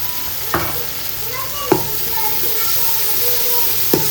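Onion sautés in a pan with crushed ginger, garlic and green chilli, giving a steady close hiss broken by three sharp stirring knocks against the pan.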